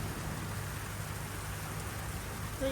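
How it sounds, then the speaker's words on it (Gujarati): Heavy monsoon rain pours steadily outdoors during a thunderstorm season, a dense, constant hiss of drops hitting surfaces at even loudness throughout, with no voices. "અત્યારે જોરદાર વરસાદ ચાલુ થઈ ગયો છે"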